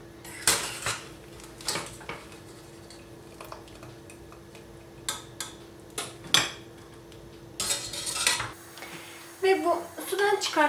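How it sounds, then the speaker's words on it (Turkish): Boiled potato slices are moved into a colander to drain, with light clinks of utensils and dishes in a kitchen beneath someone speaking Turkish, followed by a few sharper clatters near the end. "Şöyle suyunu bırakması açısından bir süzgece alıyorum."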